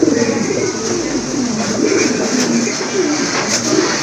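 Fancy and Rajgolla pigeons kept for breeding coo together in a loud, close, continuous chorus of soft rolling calls. A few sharper sounds from the birds moving break in briefly.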